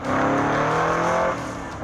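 A loud 1966 Chevy C10 pickup truck engine, built for racing, roars and revs steadily for over a second, then eases off slightly, close by with no talking.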